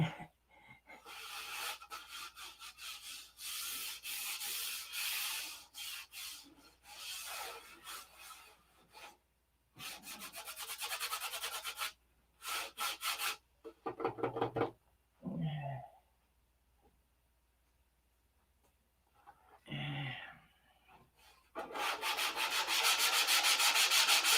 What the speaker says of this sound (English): And now comes all the sanding of this paper.